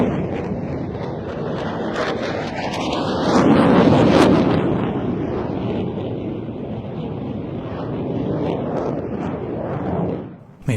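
An F-16 fighter jet pulls a hard 360-degree turn at an air show. It makes a loud, steady roaring rush that swells in the middle and is broken by wind buffeting.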